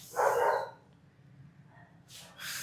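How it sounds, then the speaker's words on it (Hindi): Dogs bark outside, a short distant burst followed by a second bark about two seconds later, faint against a quiet room. "ये कुत्ते लोग बहुत भौंकते हैं यार"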